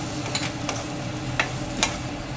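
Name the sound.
sautéing sliced potatoes in oil with spices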